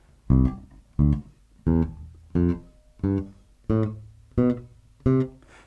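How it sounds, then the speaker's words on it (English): A bass guitar plays a row of eight short, choked staccato notes at an even pace, each a punchy low thump cut off quickly, close up and alone. "let's try the same thing, but this time we'll try a very staccato note"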